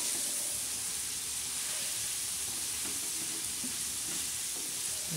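Okra fries and hisses in a pan while being stirred, a steady close sizzle with faint scraping from the spatula, and no voices.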